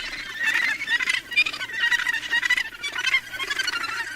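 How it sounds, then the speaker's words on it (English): A massive gannet colony at Cape Kidnappers on Hawke's Bay calls continuously, with many harsh overlapping honking cries, dense and close, with no talk. "It's home to a massive colony of gannet birds."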